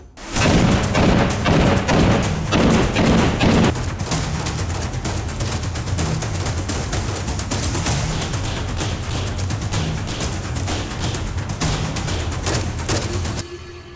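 Sustained, loud Kalashnikov rifle fire, rapid shots in an almost continuous rattle for over ten seconds with a brief slower stretch near the start, heard close.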